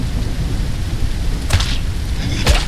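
Rainstorm ambience in MIST Survival: loud steady rain hiss with low rumbling thunder, plus two sharp cracks near the middle and end.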